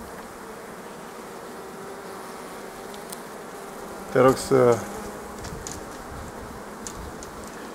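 Honeybees hum as a steady, even drone around a swarming hive, with a short burst of speech partway through.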